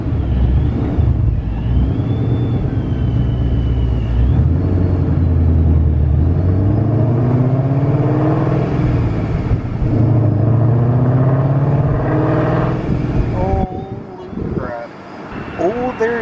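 Turbocharged Ford 5.0 Coyote V8 swapped into a car, heard from inside while driving: a loud, steady engine drone with rising harmonic sweeps and blower whine as it accelerates, under people talking, with wind noise.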